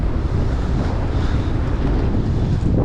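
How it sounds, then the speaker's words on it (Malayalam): Strong wind gusts through a snowy Montreal street in a swirling snow whirlwind, buffeting the microphone with a constant loud rumbling roar. "മഞ്ഞ് ചുഴലി."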